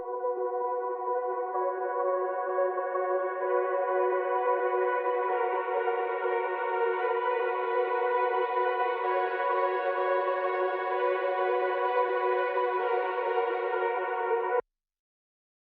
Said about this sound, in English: I'm using their stems for the strings